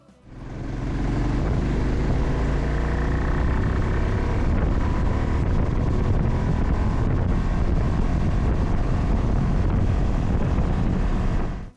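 A continuous roar of a 2025 Ducati Multistrada V2 S at highway speed, dominated by heavy wind buffeting and a steady low engine drone, no talking.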